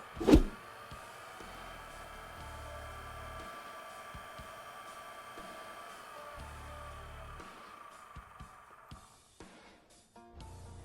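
Jet lathe motor running steadily with a faint electric hum and whine after a sharp click at the start, quiet and unchanging, with small clicks and knocks toward the end.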